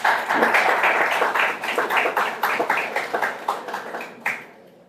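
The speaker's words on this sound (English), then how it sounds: "You can give her a round of applause." A smallish audience at a fisheries management capacity-building event gives a round of applause, distinct claps close together at first, then thinning into sparser, separate claps before fading out.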